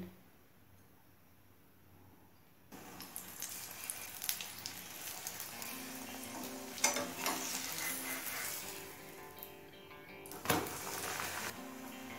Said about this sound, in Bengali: আমি সয়াবিন অয়েল দিয়ে পরোটাগুলো ভেজে নিচ্ছি